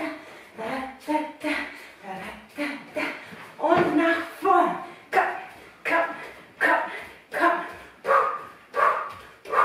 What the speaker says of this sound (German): Mein Hund ist da.